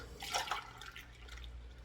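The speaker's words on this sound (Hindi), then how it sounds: "2 कप मैंने पानी डाला है" Two cups of water are poured into a pot for chicken shami kababs before pressure cooking, giving a soft, steady splashing and trickling that sounds faint and close, with no talk.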